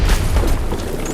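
Laser musket firing in Fallout 4, a loud booming discharge with a deep rumbling body that fills the short moment, no speech.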